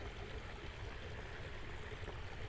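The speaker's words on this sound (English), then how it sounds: "We got waterfall sound." A steady, soft rush of falling water continues without a break, like a small waterfall heard from a short distance.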